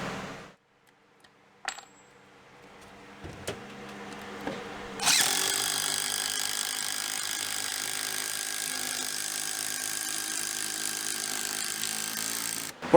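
A power driver sinks long construction screws into the floor joists of a mobile home bedroom, a sustained whirring grind after a few scattered clanks and knocks, close and fairly loud.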